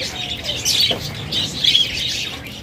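Caged budgerigars, cockatiels and other pet birds chirp and tweet in a shop, with high twittering calls overlapping in bursts against a low background hum.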